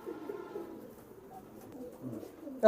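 Pigeons cooing softly, a low throaty murmur rolling on through the short stretch, fairly close but quiet, ending in a sudden louder burst.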